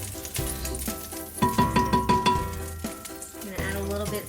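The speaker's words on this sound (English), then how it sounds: "I'm going to throw the onion in" Chopped onion thrown into a hot pan for farro risotto sets off a short burst of sizzling and rattling pulses partway through. Softer frying and talk surround it.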